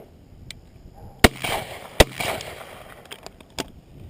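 Two sharp pops from a gun fired by a dog trainer at a hunting blind, separated by under a second, with fainter clicks and rustling around them and a voice briefly audible.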